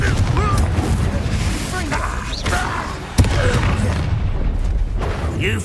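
A Confringo fire spell explodes in the Hogwarts Legacy game amid a busy battle, with dense booming impacts and a sharp blast near the middle, while voices shout over the rumbling effects.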